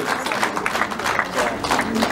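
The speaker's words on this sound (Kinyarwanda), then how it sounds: "amashyi menshi cyane kuri uyu mubyeyi" A crowd of wedding guests gives steady, dense applause for the bride's mother, many hands clapping together at close to moderate distance, with a voice speaking over it.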